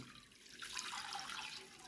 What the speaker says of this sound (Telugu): అందులో 400 మిల్లీలీటర్ వాటర్ వేస్తున్నాను